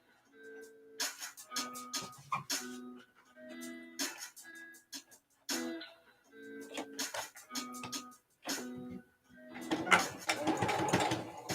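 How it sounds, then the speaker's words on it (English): A sewing machine works slowly, stitching boning into a boning channel for a DIY corset top, running in short separate bursts of mechanical whirring with frequent stops between them, close and clear. "So I'm just going to get started on sewing this into the boning channel."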